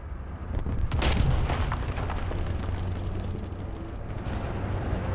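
A deep, booming tank cannon shot in War Thunder fires early, followed by a long rumbling decay over steady engine drone.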